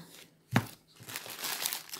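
A plastic mail package from an Avon order crinkles as it is opened, with a sharp crackle followed by continuous rustling and crumpling, close by.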